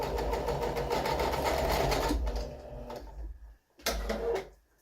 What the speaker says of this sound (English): go ahead and start stitching the insert, and I am stitching both sides of the insert